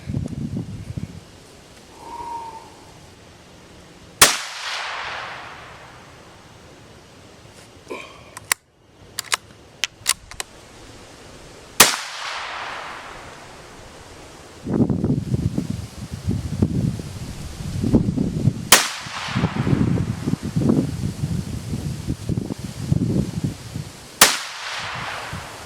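Marlin XT17VR rifle shots at an outdoor range, four sharp loud cracks spaced several seconds apart with ringing decay, between stretches of wind and rustling noise and a few clicks of handling.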